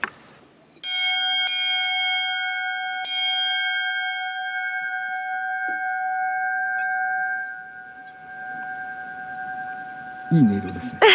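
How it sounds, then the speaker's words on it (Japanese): A bell of happiness at a Japanese sightseeing spot is struck three times, each clear ring leaving long sustained tones that slowly decay, followed by brief muffled rustling near the end. "鐘を鳴らしたところでね"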